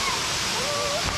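Lugnason Falls on Siquijor Island, the main waterfall, heard as a loud, constant broadband roar of falling water close by, steady throughout with no breaks.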